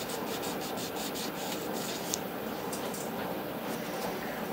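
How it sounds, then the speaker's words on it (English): Fine 1000-grit sandpaper rubs steadily across a dirty Gottlieb pinball score reel from a 1976 Target Alpha machine, a close, continuous scratchy rasp with quick back-and-forth strokes and no talking. "this is 1000 grit sandpaper I'm using"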